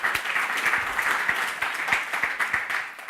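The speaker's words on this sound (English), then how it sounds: "So everyone give everyone a round of applause, because that's awesome." Audience at a Magento community conference breaks into steady, lively applause, many hands clapping together in a sustained burst with faint voices underneath.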